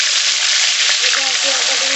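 Onion dropped into hot oil in a pan for Bengali-style chicken kosa, producing a loud, constant sizzling hiss for two seconds, with faint tonal, voice-like sounds creeping in underneath during the second half.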